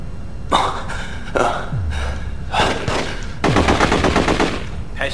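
Gunfire in the PS2 crime game The Getaway: several sharp shots in quick bursts, including a rapid volley near the end, loud game effects with little talk.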